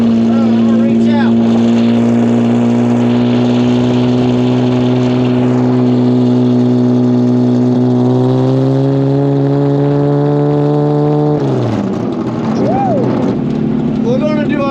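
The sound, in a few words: boat engine revving on a test drive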